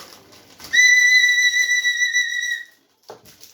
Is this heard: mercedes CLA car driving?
no